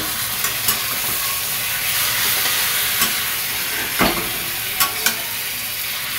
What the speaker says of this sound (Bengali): এইবার আমি ম্যারিনেট করা পুরো মাটনটাকে এর মধ্যে দিয়ে দেবো।